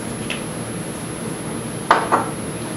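A baking dish clatters as it is taken out and set down, two quick close knocks of dish against a hard surface after a quiet stretch.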